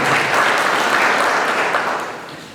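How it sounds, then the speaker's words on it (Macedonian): Audience applause at the opening forum session of a project in Berovo, a dense, close burst of many hands clapping that holds steady and then begins to thin out and fade toward the end. "замолувам се еден аплауз да се поздрави на самиот проект"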